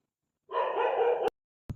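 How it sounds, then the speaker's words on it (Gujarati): A single drawn-out dog bark sounds close and fairly loud in quiet surroundings, followed by a sharp click and a short thud. "ક્યારનું ભસે અહીં આવી હું આવ્યો છું ને મને જ બસે છે"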